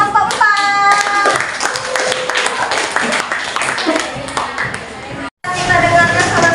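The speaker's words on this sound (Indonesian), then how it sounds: "Tepuk tangan untuk kelompok" Classmates clap for group 4 after its science presentation on heat transfer in a junior high classroom, a few seconds of close hand clapping with chatter and babble around it, then a brief cutout before the noise returns.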